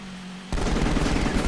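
Rapid gunfire from Final Fantasy XV erupts after a brief low electronic hum, a dense burst of repeated shots like a machine gun sustained to the end, loud and close.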